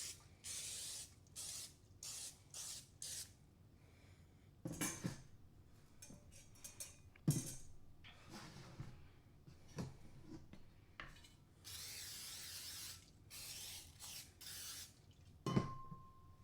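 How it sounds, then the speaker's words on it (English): Several short hissing bursts of olive oil cooking spray onto cake pans, some quick and some drawn out, separated by quiet pauses and a few light metallic clinks. "So I'm going to spray the pans with some cooking spray."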